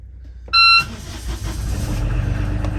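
A sailboat's repaired starboard engine cranks and starts after a short electronic beep, then settles into a steady low, close running rumble.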